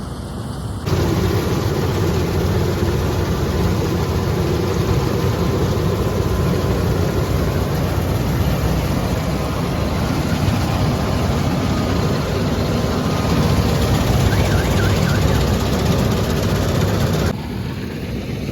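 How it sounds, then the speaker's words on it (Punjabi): A combine harvester working a wheat field, its heavy engine droning loud and steady at close range for most of the clip before cutting off near the end. "ਤੁਸੀਂ ਦੇਖ ਸਕਦੇ ਹੋ ਕਿ ਕੰਪੈਨ ਆਪਣੇ ਖੇਤਾਂ ਦੇ ਵਿੱਚ ਚੱਲ ਰਹੀ ਆ"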